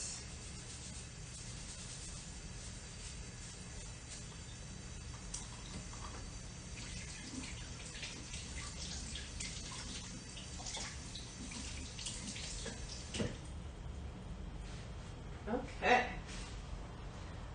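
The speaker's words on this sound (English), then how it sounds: "wash my spatula here so I can use it" Water runs steadily from a kitchen tap as a spatula is rinsed after making French macarons, a continuous hiss with a few small clinks and splashes near the end.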